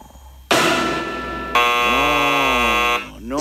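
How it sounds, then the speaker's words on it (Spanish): A loud, harsh electronic alarm buzzer sounding on a Spanish-language radio show, in two sustained blasts of about a second each with a brief change in tone between them, played alone with no talking over it. "¡Alarma!"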